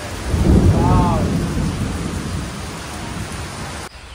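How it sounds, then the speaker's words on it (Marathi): A loud roll of thunder rumbles close over heavy Konkan rain, then fades into the steady roar of the downpour. "पावसाचा जोर वाढलेला आहे परत आता."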